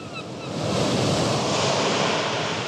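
Ocean waves crash on the stormy coast of a Breton island, a loud, steady roar of surf swelling up and holding, with wind rushing over the microphone.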